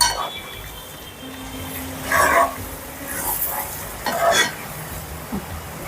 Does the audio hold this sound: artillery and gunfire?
no